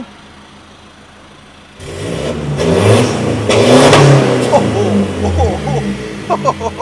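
After a quiet pause, the 2.4-litre diesel engine of a 2022 Toyota Hilux Revo pickup roars to life and revs hard several times, a loud, close-up rumble rising and falling in bursts.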